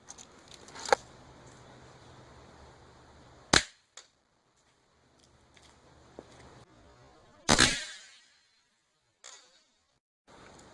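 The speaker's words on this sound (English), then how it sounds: "It is a CO2 pellet pistol that sends a pellet at about 400 feet per second" An Umarex Smith & Wesson M&P 45 CO2 pellet pistol fires H&N Barracuda pellets at a tactical bump helmet, giving a few sharp, isolated cracks seconds apart with near silence between.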